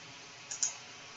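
Two quick, faint clicks of a computer mouse in close succession over a soft background hiss, with nothing else going on.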